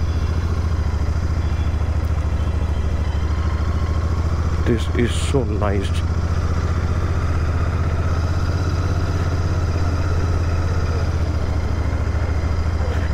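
A Royal Enfield 650 motorcycle, an Interceptor or Bear 650 on a test ride, idles with a steady, smooth low rumble close by throughout, while a person briefly speaks over it.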